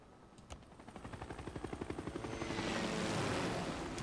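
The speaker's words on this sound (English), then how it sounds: "This helicopter, good for taking cities." Helicopter unit in the video game Civilization VI, with rotor chops quickening into a rapid rhythmic thump that swells into a louder, broad engine roar, heard alone with no talk.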